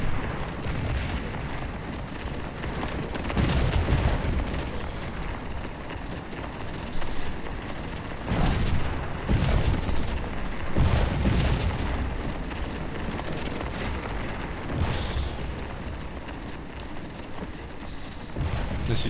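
Cannons firing canister shot on McPherson's Ridge in the Scourge of War battle game, with several heavy booming blasts spaced seconds apart over a continuous rumbling battlefield din.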